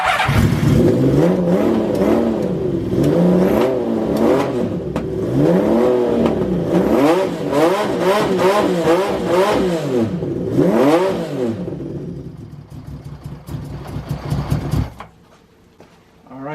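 Honda CBX six-cylinder motorcycle engine fitted with a Delkavic 6-into-1 exhaust, running slightly lean, revved repeatedly in loud rising and falling bursts over a rough idle, close up, then settling and cutting off near the end.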